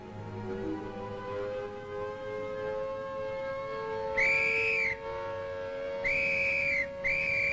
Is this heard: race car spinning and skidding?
no